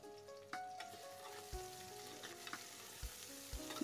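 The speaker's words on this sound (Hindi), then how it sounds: "प्याज भी अच्छे से हो गए और लहसुन अदरक भी अच्छे से भुन गए हैं ये देखिए।" Onion, ginger and whole garlic cloves sizzle steadily in hot oil in a pan while a spoon stirs them, with sharp scraping knocks at irregular intervals over the constant frying hiss, close and fairly loud.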